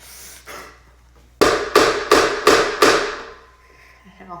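A hammer strikes a part during a Toyota 1ZZ-FE engine build, five loud, evenly spaced metallic blows close by after a couple of softer taps, then a short ringing decay.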